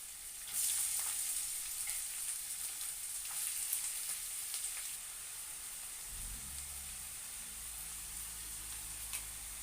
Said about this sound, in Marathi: त्यानंतर आपण घालायचं आहे बारीक चिरलेला कांदा